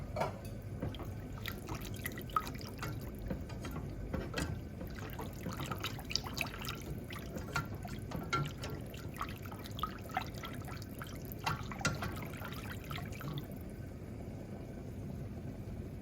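Milk poured into a pot of béchamel sauce, a quiet liquid trickle with small drips and stirring taps, close but faint.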